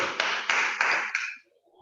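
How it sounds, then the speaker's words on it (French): A few people clap together after a muscle wake-up exercise session, a short burst of close, fairly loud claps in an uneven rhythm that stops abruptly, leaving near silence. "Et on peut s'applaudir."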